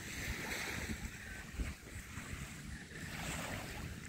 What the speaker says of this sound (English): beach ng Qatar